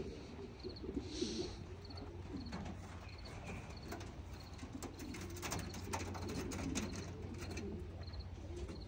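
Racing pigeons coo softly in a loft, a low murmuring layer running steadily throughout, with occasional brief wing flutters and faint clatter nearby.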